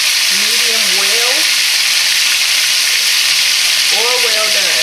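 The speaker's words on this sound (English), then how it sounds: "I hope you guys can hear me with all the sizzling going on." Steak and eggs frying in a pan, sending up a loud, constant, close sizzle and hiss, with a person's voice briefly heard beneath the crackle at the start and again near the end.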